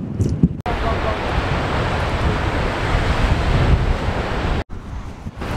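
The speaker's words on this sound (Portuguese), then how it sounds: "A força que vem o mar e que vem todas as ondas batendo contra as pedras é algo incrível" Ocean waves crash against rocks on Iceland's black sand beach, a loud continuous roaring surge mixed with heavy wind buffeting the microphone, with brief cuts between gusts.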